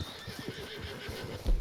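A Mustang horse in Red Dead Redemption 2 gives a short whinny over quick hoofbeats, close and brief, ending with a thump.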